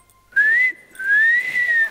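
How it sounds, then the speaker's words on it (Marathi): A person whistles two sustained, clear, slightly rising tones, loud and close, separated by a short pause, on a comedy sketch stage. "शिट्टी."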